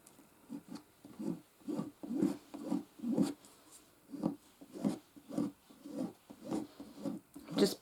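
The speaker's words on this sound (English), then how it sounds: "just burnishing it really there to make sure" Glued paper burnished flat by hand, heard as a steady run of soft rhythmic rubbing strokes, about two per second, quiet and close with no voices.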